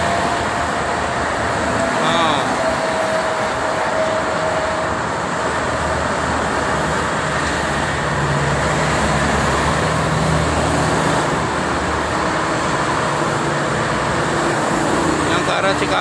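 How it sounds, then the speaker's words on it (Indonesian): Steady, dense traffic of private cars and buses on the Cikampek toll road at night, a continuous broadband road roar with no single vehicle standing out. "Bisa dilihat ini banyak sekali mobil pribadi dan angkutan bis"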